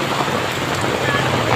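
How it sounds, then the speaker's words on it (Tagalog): Heavy, unceasing rain falls around a house in Libacao, Aklan during flooding, a dense even roar of drops on surfaces, loud and continuous without talking. "yung ulan walang tigil simula pa kahapon"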